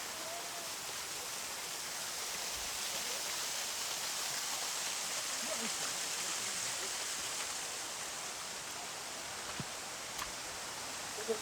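Steady broadband roar of a waterfall along the Nageshwar mountain trek, constant and fairly distant, rushing water filling the scene without pause for the whole stretch.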